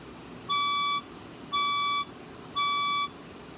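Fire alarm test tones in a building: three identical electronic beeps, each about half a second long, evenly spaced over a low background hum.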